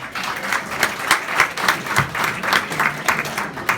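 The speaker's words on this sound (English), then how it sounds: "I thought all that applause was for me for a moment" Audience applause at a candidates' forum Q&A, a lively crowd clapping with a ragged, pulsing rhythm that stays strong throughout.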